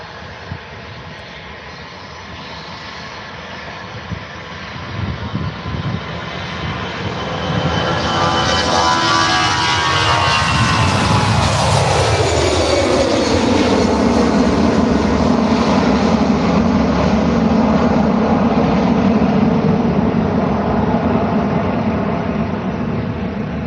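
EasyJet airliner taking off from Faro airport: a loud, sustained jet-engine roar that swells and sweeps in pitch as the plane passes, with a long rumbling wash continuing afterward, heard close and with no talking.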